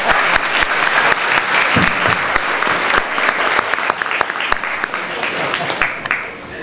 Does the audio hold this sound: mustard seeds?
no